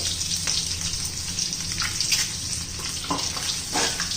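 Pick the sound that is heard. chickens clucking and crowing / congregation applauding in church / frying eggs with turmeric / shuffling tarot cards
frying eggs with turmeric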